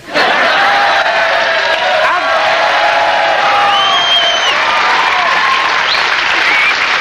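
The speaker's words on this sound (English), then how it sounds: "the audience shall applaud spontaneously, for she looks so stupid" Studio audience at a live comedy show breaks into loud, sustained applause, with scattered cheers and whoops rising over the dense clapping for the full stretch.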